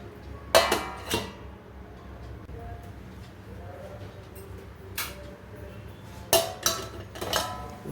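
A spoon scrapes and clinks against a pan while Tondli (ivy gourd) onion masala curry is stirred, with sharp metallic taps in two small clusters separated by a quieter stretch.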